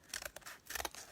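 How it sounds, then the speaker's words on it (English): Scissors cutting plain cardboard from a package, a few quiet crisp snips and crunches in quick succession, close and faint. "It's just any old bit of cardboard. And I'm going to cut it into"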